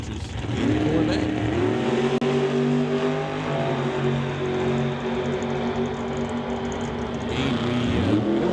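A 1963 Corvette with a 502 cubic inch engine and a 584 cubic inch Firebird drag racing at an outlaw shootout event, engines roaring loudly and rising in pitch as they launch and accelerate, with a commentator talking over the noise.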